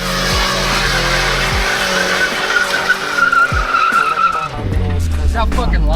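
Loud, sustained tire squeal from a car doing a burnout with line lock, the engine roaring steadily under the screech, close and continuous throughout.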